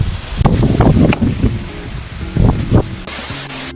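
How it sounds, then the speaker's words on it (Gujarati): Wind-driven rain comes in gusty, rushing bursts, loud and close, with the noise rising and falling unevenly. "પવન સાથે વરસાદ ચાલુ."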